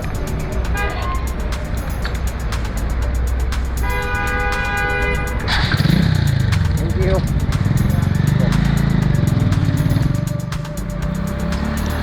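A motorcycle rolling through a busy road toll, engine rumbling up close while other vehicles pass and several car horns toot, with people talking nearby over the traffic noise.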